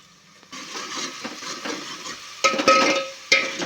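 Coriander paste and ginger-garlic paste frying in oil for fish sambar, close crackling sizzle with spoon scrapes and a few louder bursts as the paste is stirred.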